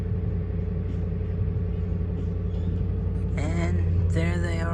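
A 2007 Ford Explorer Sport Trac truck engine idles with a steady low rumble throughout, joined near the end by a brief higher whining hiss, with no talk.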